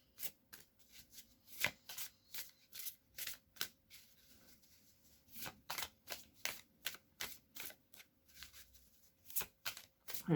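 Oracle cards being shuffled by hand, a run of crisp, quick riffling and slapping bursts in an irregular rhythm, close and fairly quiet, with no talking.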